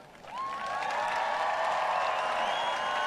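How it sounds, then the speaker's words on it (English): Audience applause at a high school graduation ceremony swells in after a short lead-in and holds as a loud, dense wash of clapping with some cheering, sustained to the end. "Let's hear some applause from all of the KHS alumni that are here with"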